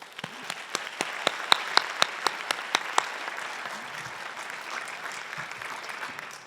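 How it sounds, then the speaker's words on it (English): Applause from an audience at a teacher of the year awards ceremony, with a few sharp, louder claps standing out early before the clapping settles into a steady patter that fades toward the end. "Let us give them all a round of applause."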